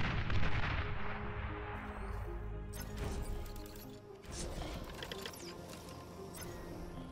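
Anti-air units firing at incoming aircraft in a strategy video game, a steady rumble of distant artillery-like shots and booms running through the whole stretch at moderate level, with no talking.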